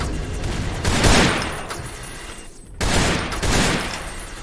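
Gunfire in Fallout 3: bursts of shots and blasts fill the clip, loud and dense around the first second, then a sharp drop near 2.8 s before another round of firing, with no talk.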